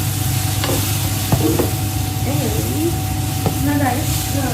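Cauliflower and peas frying in masala in a pan, a continuous loud sizzle with a few sharp utensil clinks and scrapes, and faint voices in the background.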